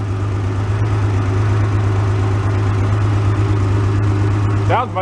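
A Porsche 911 engine recovered from a flood idles with a steady, loud, even drone throughout, and a brief higher rising sound appears near the end.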